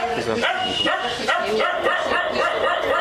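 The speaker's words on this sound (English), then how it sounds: "She's just my lovely dog" A pet dog barks and yips in short repeated bursts close by, with a person's voice talking over and between the barks in a home setting.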